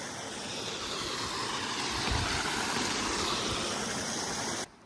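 A small river near the Domzira waterfall in Jawhar, Palghar rushes in a steady, full roar of flowing water close by, cutting off abruptly at the very end.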